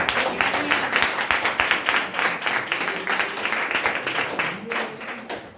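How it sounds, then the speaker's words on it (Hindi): Audience applause at a gathering, a steady wash of many hands clapping that swells and thins over several seconds with a faint voice underneath. "हमारे सभी के लिए जोरदार तालियां यार।"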